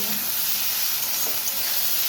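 Vegetables such as pointed gourd and beans frying in a pan, a dense, steady sizzle with hissing throughout, heard close up and without talk.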